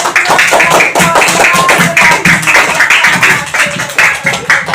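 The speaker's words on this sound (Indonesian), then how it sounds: "Berikan tepuk tangan yang meriah" A classroom audience in a group presentation session gives loud, enthusiastic applause. It is a dense, sustained burst of many hands clapping at once, close and filling the whole stretch with no break.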